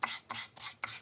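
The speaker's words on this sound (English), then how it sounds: "When you're sanding, just sand with the grain." Short rhythmic strokes of sandpaper rasping along the grain of a guitar kit's wooden body, four quick back-and-forth passes, close and fairly soft.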